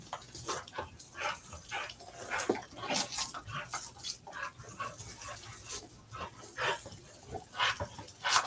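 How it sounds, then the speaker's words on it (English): A small dog indoors, giving scattered yips, whimpers and snuffling sounds in short bursts, fairly close and moderately loud, with no talking. "Oh, little doggy."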